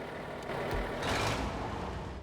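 A heavy truck in the Snowrunner video game drives with a steady, loud engine rumble that swells slightly midway, with no voices.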